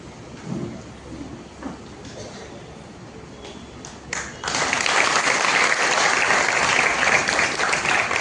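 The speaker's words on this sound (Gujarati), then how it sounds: "તાળીઓ પડવી જોઈએ બરાબર." A crowd breaks into sustained applause at a college welcome ceremony for International Cooperation Day at PTC College, Sursagar, Vadodara. Quiet room noise comes first, then loud, dense clapping that continues steadily to the end.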